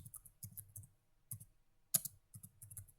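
Fingers type on a computer keyboard, giving quick bursts of light clicks with short pauses between them, close and fairly quiet, with no talking.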